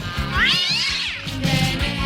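A cat meows loudly and close by in one long, rising and falling call, followed by a softer, shorter mew.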